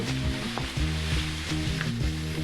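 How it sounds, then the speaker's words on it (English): Stir-fry sizzling steadily in a hot pan with a broad crackling hiss, punctuated by a few scraping stir strokes, close and continuous with no talking. "Make sure you get that stir fried in there really, really good."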